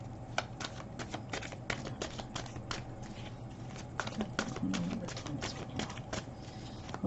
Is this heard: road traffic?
no